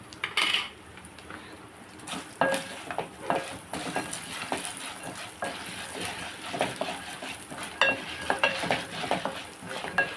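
Urad dal frying in a pan for a coconut chutney tempering, with a spoon stirring and scraping against the metal in repeated strokes over a soft, steady sizzle; no voices.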